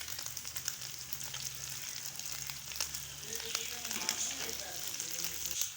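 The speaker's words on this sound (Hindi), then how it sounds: "अब चिकन को थोड़ी देर भून लेंगे।" Chicken and chopped onion frying in a pan, a constant hissing sizzle broken by stirring clatters and crackles, close up and without speech.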